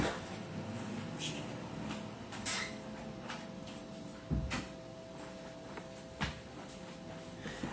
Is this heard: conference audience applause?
no